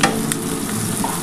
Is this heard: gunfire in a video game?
no